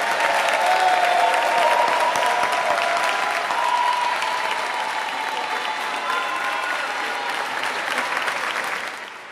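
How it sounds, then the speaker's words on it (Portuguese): A large audience at a formal ceremonial session honoring the King of Nigeria claps loudly and continuously, a thick wash of applause that holds for several seconds before easing slightly near the end. "Clap for yourself and let me hear"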